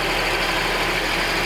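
A 2007 GMC Acadia engine idles on six cylinders after timing chain work, a steady close hum with a faint chattery edge and no voices.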